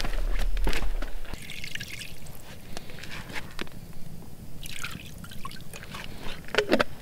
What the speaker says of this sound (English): And then we need a little more water for Monty's.